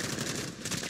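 Rapid gunfire in Call of Duty: Warzone, a dense, steady burst of automatic shots close and loud, with no talking.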